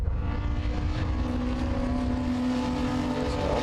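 Modified Ford race cars, including a Ford Escort Cosworth, roar past at Snetterton circuit with a continuous loud, buzzing engine drone and steady high revs, no voices over the engine noise.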